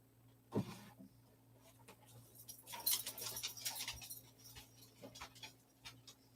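A dog whimpers and pants quietly indoors, with a soft yelp near the start and faint throat-clearing-like sounds, low in level and without talk.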